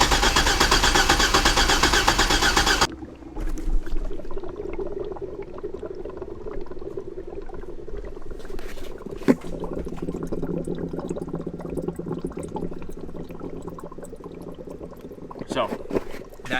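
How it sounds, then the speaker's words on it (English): A Chevy C10 truck engine drones loudly and steadily, then cranks and rumbles on with a low, uneven churn of coolant bubbling in the overflow tank underneath. "Just cranking this thing over, this little coolant overflow right here, it looks like a little Whirlpool jet"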